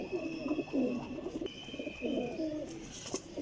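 A Rampuri and Medical Batera cross pigeon coos in rolling low phrases close by, repeating twice over a faint steady hum, with no talking.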